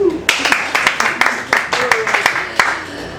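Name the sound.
audience clapping at open mic comedy show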